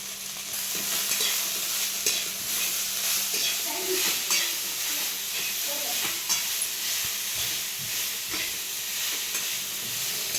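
Green chili and garlic tossed into a pan with cluster beans, sizzling loudly and steadily throughout while a spatula stirs and scrapes in repeated strokes.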